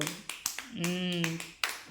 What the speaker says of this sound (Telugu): క్లాప్స్ కొట్టండి మరి అన్వికాకి